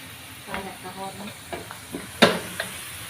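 Meat and potatoes cook in a pot for a home night meal, giving a steady low sizzle and hiss broken by a few sharp stirring clinks, with a brief louder scrape near the end.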